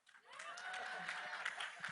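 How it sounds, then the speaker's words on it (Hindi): An audience at a film trailer launch event breaks into applause, a steady wash of clapping that builds quickly and holds, with some voices mixed in. "तालियां"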